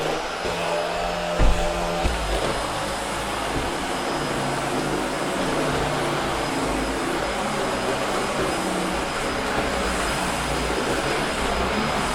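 A Hoover H Upright 500 Sensor Plus vacuum cleaner runs across carpet with a steady, loud motor drone throughout, broken by a brief knock near the start.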